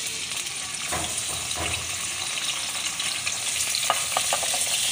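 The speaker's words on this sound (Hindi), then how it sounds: "सबसे पहले हम ऑयल में प्याज और अदरक को फ्राई करेंगे" Chopped onion and ginger sizzle steadily in hot oil in a pan, a constant close crackle with occasional scraping stirs.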